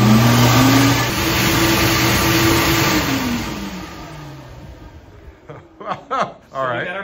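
Exhaust flow bench firing up and running air through a straight 3-inch exhaust tube, a loud steady roar that winds down as people chuckle and talk briefly at the end.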